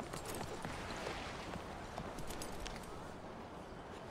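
A horse's hooves clip-clop on a ranch in a roleplay video game, a soft, steady patter of footfalls at a moderate distance with faint background noise and no talk.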